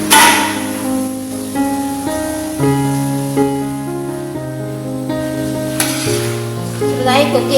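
An onion mixture frying in a pan while being stirred gives a continuous sizzle under louder background music.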